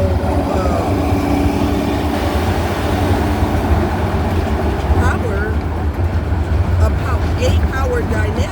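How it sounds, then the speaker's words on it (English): A loud truck rumbles past outdoors, a continuous heavy engine drone with low road noise that swells slightly toward the end, while a person talks over it. "damn, that truck is loud."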